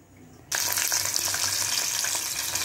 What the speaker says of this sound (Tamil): நம்ம போட்டால் ஃபிங்கர் ஸ்டிக்ஸ் நல்லா வெந்துக்கிட்டு இருக்கு.